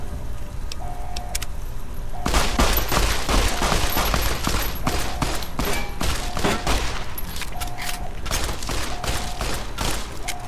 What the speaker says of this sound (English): I just shot that kid.